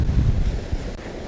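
Surf pounding the rock ledges at Cape Banks, Sydney, with a heavy low rumble and gusting wind on the microphone, a brief surge that eases off toward the end, with no voices.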